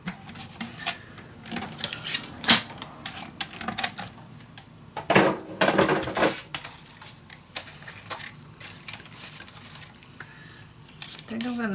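Paper is cut into pieces for a winter-themed mini album, producing crisp, irregular snips and crunchy slicing bursts up close, separated by brief pauses and soft handling noise, with a voice murmuring at times.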